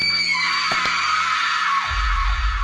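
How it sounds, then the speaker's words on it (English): A guest in a living room lets out a sudden, loud, sustained scream that fills the whole clip at full strength and carries shrill, wavering tones throughout. "one of them screams"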